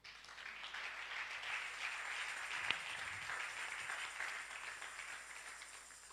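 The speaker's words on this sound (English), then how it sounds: "Clap for them." Applause from a church congregation, steady dense clapping filling the room for several seconds with one sharper clap standing out midway, moderately distant and unbroken by talk.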